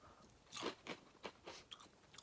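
Dry pieces of Sour Patch Kids cereal crunched in the mouth close to the mic, several crisp bites and chews in irregular succession with no talking.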